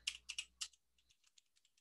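Computer keyboard keys clatter in a quick burst of typing, several sharp clicks followed by lighter, fainter taps, close and alone.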